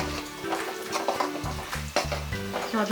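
Garlic fries in oil for khara mandakki in a home kitchen, crackling and sizzling close up with stirring knocks and short bursts of spattering.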